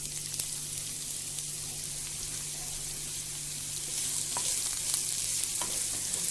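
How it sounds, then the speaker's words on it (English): Onions crackle and sizzle in hot cooking oil in a wok over a gas flame, a steady close frying hiss that grows slightly louder partway through, with a faint low hum underneath. "The oil is hot, so I'm adding my onions."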